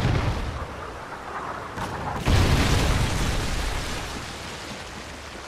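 Deep, rumbling blast of a Trinity rocket strike in a video game, following an ongoing low roar, with a sharp boom that then rolls out and slowly fades.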